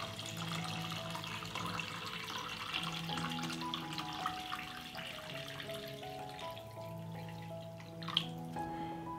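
Water pouring steadily into a pot packed with glass jars, filled up to lid height for pasteurizing, a continuous soft splashing stream with a faint drip near the end.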